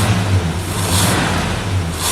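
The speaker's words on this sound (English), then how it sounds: "I can't get over how good that thing starts." A street car fitted with a race carburetor runs with a close, loud engine drone and slight surges in pitch, with no voices.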